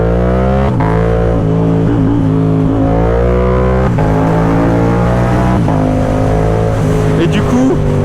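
A motorcycle with a loud aftermarket exhaust revs hard in close, sustained bursts, the engine note rising and dropping several times over a steady rumble.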